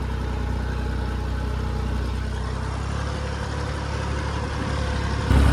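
A John Deere tractor arrives on a farm field to run a rotavator, its engine a steady, loud low rumble that grows heavier and closer toward the end, with no talk.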